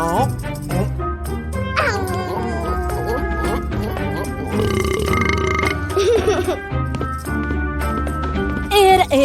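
A cartoon character burps in a kids' animated show about a dinosaur bus, the belch rising over busy music with no speech.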